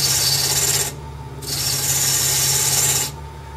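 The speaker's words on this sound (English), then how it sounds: "take a spindle gouge, and all we're going to do is just rough this out nice and easy" A spindle gouge roughs out a wood blank spinning on a mini lathe: two loud, sustained rasping cuts, close by, with a short quieter gap between them.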